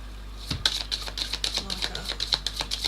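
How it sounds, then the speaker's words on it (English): Tarot cards shuffled in repeated quick riffling bursts, crisp papery clicks and flutters in a steady rhythm at close range, with no talk. "I want another shuffle."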